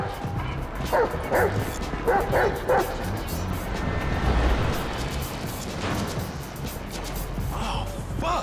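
A dog barking in the video game GTA V: repeated loud yips and barks in short bursts, with whimpering between them over a busy background.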